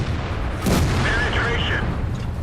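A tank cannon shot from an E-75 in World of Tanks, a single heavy boom with a short rumbling tail, loud over steady battle noise.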